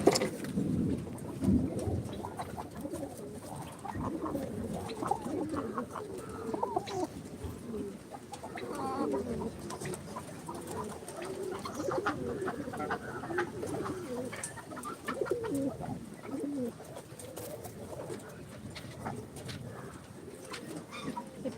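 Fancy pigeons coo and murmur continuously at close range, soft throaty calls overlapping with occasional clucks and fluttering against a steady background.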